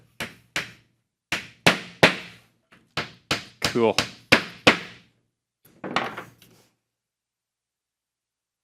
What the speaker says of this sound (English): I'm going to be hammering a little bit.